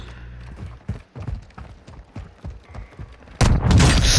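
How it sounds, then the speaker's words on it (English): Gunfire in Call of Duty: Modern Warfare II comes as a string of sharp, spaced shots and mechanical clatter, ending in a louder, denser burst of blasts near the close. "Oh, I'm getting shot at."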